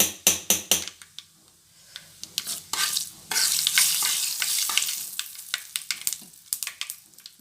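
Dried chillies and tomato frying for a chilli pickle, with several sharp taps of a utensil first and then a swelling hiss and crackle of sizzling. Intermittent clinks follow, the sound is close, and no voice is heard.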